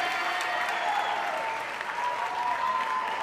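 Live-show audience applauding the host of a honky-tonk variety show, a continuous full burst of clapping from a crowd that holds steady throughout without any talk.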